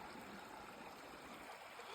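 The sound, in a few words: water sloshing in a gold pan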